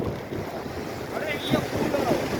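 Sea waves at full-moon high tide rush and wash near the shore under heavy wind buffeting the microphone, a continuous close roar with surging swells.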